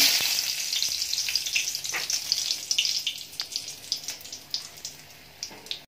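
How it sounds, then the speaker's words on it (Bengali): Dried red chillies fry in mustard oil in a wok, crackling and popping loudly at first, then settling into sharp spitting bursts that grow sparser. "সর্ষের তেলের মধ্যে আমি কয়েকটা শুকনো লঙ্কা ভেজে নেব।"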